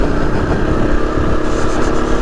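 A Husqvarna FE 250 street-legal dirt bike with a 13-tooth front sprocket runs close by, its single-cylinder engine a loud, steady buzzing drone on a trail ride near the Lake Mountains.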